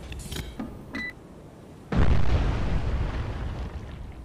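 Missile launch in the submarine game Cold Waters: a few small clicks and pops, then a sudden deep roaring blast that holds loud and rumbling for a couple of seconds as it slowly fades.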